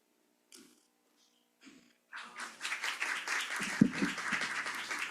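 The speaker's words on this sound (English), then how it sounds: "I'm going to imagine that applause was for Ann and not for me." Audience applause fills a theater at a morning presentation, starting after brief faint speech and swelling into steady, dense clapping from a crowd that carries on to the end.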